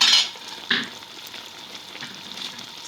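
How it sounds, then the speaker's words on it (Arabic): A cup of milk poured into a hot pot of cooking vermicelli: a sharp hissing splash at the start, another brief burst, then a soft, steady simmering sizzle. "نضيف كده كوبايه لبن"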